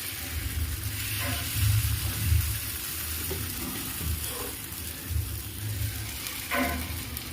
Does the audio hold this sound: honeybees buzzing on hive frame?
no